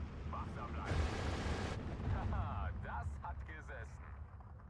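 Mortar and artillery fire in the wartime strategy game Steel Division 2: a dense stretch of booming blasts and rumbling impacts, with one broad loud burst early and scattered crackling shots after, under continuous talk.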